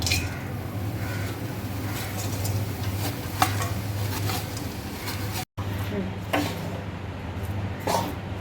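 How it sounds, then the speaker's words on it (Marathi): Jaggery being heated and stirred in a kadhai: soft sizzling with repeated scraping strokes of a spoon against the pan, close and moderate in level, under a steady low hum, with someone talking over it. "आता त्याच कढईमध्ये गूळ गरम करायचा"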